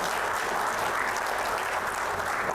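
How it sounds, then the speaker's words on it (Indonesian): Audience at a professors' oration event applauding Professor Sulis Tiawati Irianto, a dense, steady crowd clapping close and loud throughout, no voices. "Kita berikan aplaus buat beliau."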